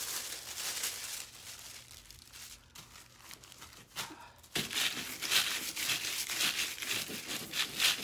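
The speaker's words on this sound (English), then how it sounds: "Let's do another little lay on of foil here." Aluminium foil is laid onto a table surface and crinkled by hand, with soft crackling that grows louder and busier halfway through into dense, close rustling.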